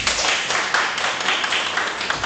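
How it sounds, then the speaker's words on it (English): Audience applause follows the end of conference presentations, a dense, steady patter of many hands clapping in a room, moderately loud and continuous throughout. "Can we give them a big applause,"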